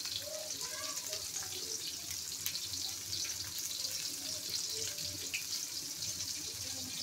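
Tap water runs steadily into a kitchen sink as hands are washed beneath it, a continuous splashing hiss with soft gurgles, fairly quiet and close, with a faint voice in the background.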